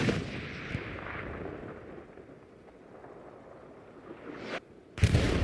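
Artillery fire in the video game Hell Let Loose on a night battle map, with a low rolling boom that fades slowly, then a sharp, louder blast near the end.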